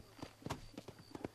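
A horse's hooves clop in a quick uneven rhythm of about five soft strikes in Red Dead Redemption, faint and close.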